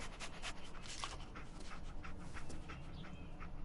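The dog companion Dogmeat in the video game Fallout 4 pants softly and steadily for a few seconds, a faint breathy sound against quiet background noise.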